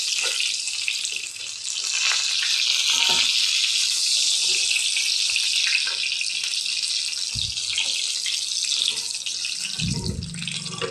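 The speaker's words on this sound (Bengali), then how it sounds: "তো দেখতেই পাচ্ছেন চিকেনটা কত সুন্দর লাল লাল করে ভাজা হয়ে গেছে।" Chicken pieces for restaurant-style chilli chicken fry in hot oil until reddish brown, giving a steady, close, bright sizzling hiss throughout, with a few low knocks and utensil bumps near the end.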